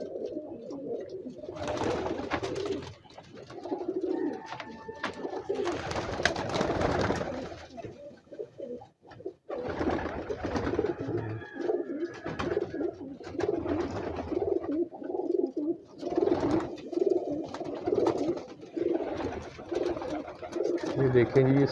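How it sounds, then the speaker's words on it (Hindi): Star pigeons and their young coo softly in a loft, low throaty calls repeating in overlapping bursts at close range, with someone talking over them. "ये बच्चे और ये कबूतर चंद हमारे इधर भी हैं"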